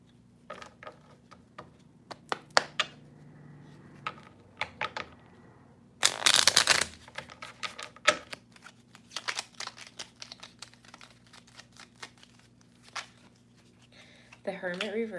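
Tarot cards are gathered up and slid back into the deck: a series of close, crisp clicks, riffles and card slaps, with one burst of rapid shuffling, while someone speaks over them.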